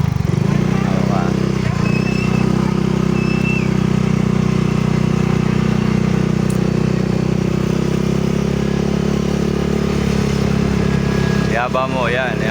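A motorcycle engine runs steadily through a motor test ride, a loud, close, continuous drone with a faint chirping sound near the end.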